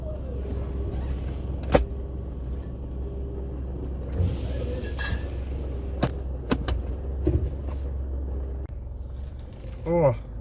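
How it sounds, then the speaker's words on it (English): Inside a car stuck in an automatic car wash, a steady low mechanical rumble runs throughout, broken by scattered clunks and knocks, with a person talking over it. "Stuck on the car wash."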